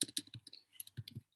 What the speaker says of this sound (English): Yes, I'm just typing.